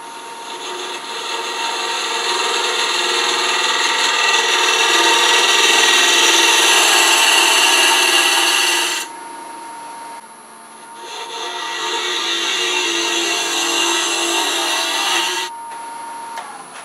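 A wood lathe turns the inside of a pedestal box, a loud, close scraping hiss of the tool cutting spinning wood, pausing briefly midway before a second steady cutting pass.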